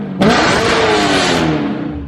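A Lamborghini with a full straight-pipe exhaust and X-pipe, mufflers removed, bursts into a loud, raspy rev that holds high and sustained before easing slightly, close and unmuffled.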